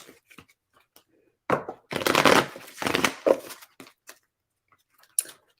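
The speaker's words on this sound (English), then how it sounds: "Let's shuffle." Tarot cards being shuffled by hand in a quiet room: soft papery riffles and taps, with a dense central burst of shuffling lasting about a second and a half, then a few scattered flicks and a final short riffle.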